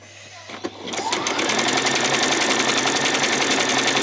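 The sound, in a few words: sewing machine sewing a zigzag stitch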